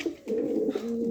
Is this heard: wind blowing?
no